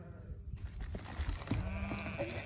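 A lamb bleats on a small farm during tagging, with short wavering cries mixed with handling clatter and shuffling at moderate distance.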